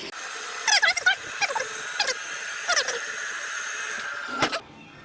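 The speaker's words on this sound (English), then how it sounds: "All the way down, nice good creaking noises," Repeated squeaky, creaking squeals from a vehicle lift as it lowers a 2018 Ram truck during an oil change, in short bursts over a steady background hum, ending with a final creak.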